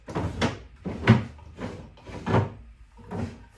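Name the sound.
antique dressing table cupboard doors being opened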